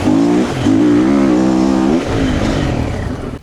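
Triumph TF450-C dirt bike engine pulling in third gear on West Virginia trail terrain, a loud, steady droning rumble that rises slightly in pitch, then drops away and continues at lower revs, close by with no talking.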